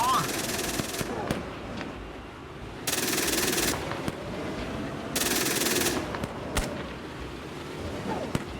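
Marder A1 infantry fighting vehicle's machine gun fires at enemy infantry in a video game: two sustained loud bursts over a steady engine rumble, with a voice calling out nearby.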